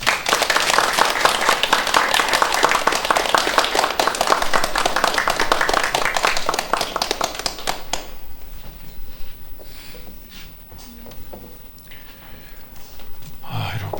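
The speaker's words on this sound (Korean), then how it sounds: "우리 같이 나오실 때 박수로 환영하겠습니다" A church congregation claps to welcome a guest pastor on the church's founding anniversary Sunday. Dense, loud applause lasts about eight seconds and then fades to quiet room noise with soft shuffling.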